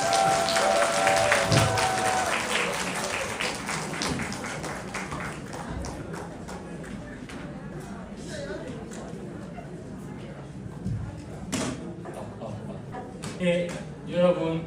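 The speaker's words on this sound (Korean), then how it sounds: "여러분 큰 박수로 맞이해 주시기 부탁드립니다" Audience at a Tenrikyo training gathering applauding to welcome a speaker, dense steady clapping from a crowd at the start that gradually thins and fades, followed by someone speaking.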